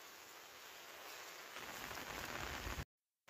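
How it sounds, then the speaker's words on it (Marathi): Fine, light rain patters steadily on surfaces in a Konkan village, a soft continuous hiss that grows a little denser midway before cutting out briefly near the end. "आता पाऊस पडतोय बघा बारीक बारीक"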